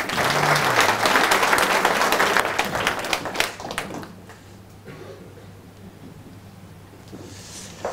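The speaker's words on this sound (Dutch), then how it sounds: "Gefeliciteerd en applaus." A hall audience applauds at a royal honours ceremony, dense clapping for about three seconds that quickly fades to scattered claps and a quiet room with faint movement.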